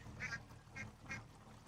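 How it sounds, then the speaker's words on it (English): Ducks crossing a road quack in three short, nasal calls spaced about half a second apart, close by and heard alone without talk. "Ducks crossing the road."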